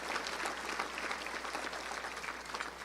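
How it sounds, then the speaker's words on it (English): A luncheon crowd at the Little Rock Touchdown Club gives a round of applause for the executive director, a faint but dense, continuous wash of clapping. "Let's give her a big round of applause"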